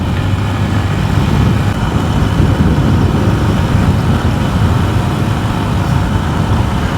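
Motorcycle ridden downhill at close to 80 km/h, a steady dense roar of engine and wind rumble that holds loud and unbroken throughout.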